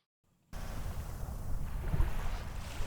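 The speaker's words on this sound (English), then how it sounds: "right here I've got some nice sound of the water hitting the shore" After a brief silence, water laps against the shore in a steady, close wash, buffeted throughout by rumbling wind across the microphone, with no voices.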